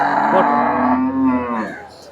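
A first-calf cow due to calve soon lows at the Poigai cattle market, giving one long, loud, continuous moo close by that fades at the end.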